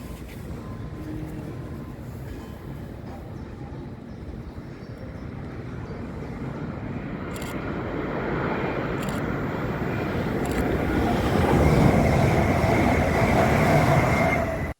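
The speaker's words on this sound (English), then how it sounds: "A 9-car Azuma raced south at 12:03, passing a 5-car version going north below me a few seconds later." Two Azuma trains pass each other on the East Coast Main Line beside a rail yard, a nine-car unit heading south and a five-car one north, their rushing rumble swelling steadily louder with faint wheel noise.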